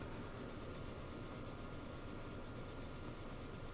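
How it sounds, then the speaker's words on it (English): A train rolls past in the Transport Fever rail simulation, set in the USA: a steady, dense rumble with no clear beats, holding even throughout. "There is another train passing on the right hand side"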